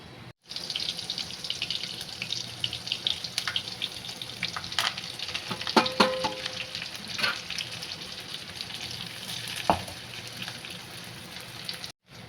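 Masala-stuffed ridge gourd drops into hot oil and sizzles, a steady close frying hiss dotted with sharp crackles and pops throughout.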